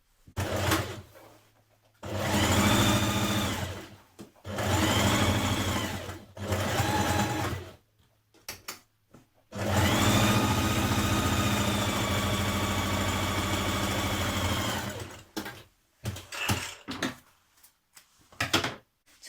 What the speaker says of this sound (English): Make sure it's on a large stitch and stitch down to the bottom here.